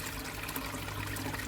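Water trickles and drips steadily from a leak at the front of a garden koi pond, a soft continuous wash of liquid sound that stays even and close throughout.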